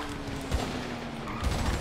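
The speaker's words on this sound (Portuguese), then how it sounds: "Tô trocando tiro DP Void aqui." Video game gunfire crackles in rapid, dense bursts of shots that run close and loud for a couple of seconds.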